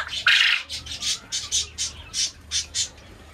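Quail call up close in a rapid run of about ten sharp, squawking notes, loudest at the start and spaced evenly as they fade.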